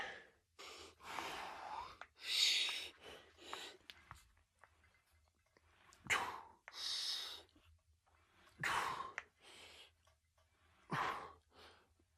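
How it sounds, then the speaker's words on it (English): Heavy, labored breathing after an arm workout of biceps and triceps, with audible gasps and sighing exhales repeating in uneven bursts, close to the microphone with no talk. "I'm breathing pretty hard"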